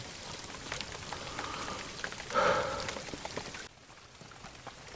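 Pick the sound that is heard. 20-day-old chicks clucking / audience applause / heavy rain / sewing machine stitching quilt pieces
heavy rain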